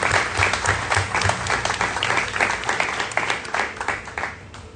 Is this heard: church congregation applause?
yes